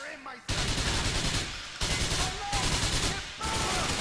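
SMG fire in Grand Theft Auto IV: long, dense bursts of submachine-gun shots with brief gaps between volleys, loud and close, rattling almost continuously.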